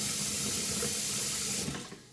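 Water runs steadily from a kitchen tap into a sink, a continuous rushing splash that tapers off near the end.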